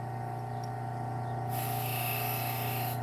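A fillet knife held against a spinning grinding wheel gives a steady high-pitched grinding whine over a constant motor hum, growing brighter and louder halfway through as the blade bears harder on the wheel.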